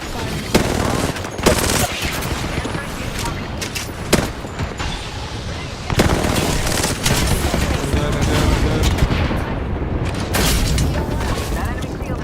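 Weapons fire in a squad-based video game battle: sharp shots and bursts crack out over a constant roar of combat noise, with a loud blast near the middle. Players talk throughout.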